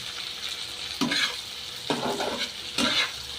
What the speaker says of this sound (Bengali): এখন সিদ্ধ করে তেলে হালকা রসুন পেঁয়াজ কাঁচামরিচ দিয়ে চিংড়ি মাছ দিয়ে ভাজতেছি